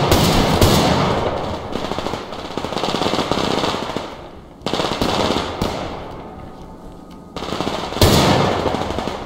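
Gunfire in the video game Survarium comes in loud bursts of rapid automatic fire with short pauses between volleys, close and dominant with no talk.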